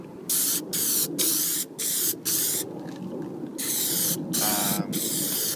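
Plasti Dip coating sprayed from an aerosol can onto car window trim for a chrome delete on a WRX, heard as a close, loud hissing run of about six bursts with short pauses, ending in a longer continuous spray.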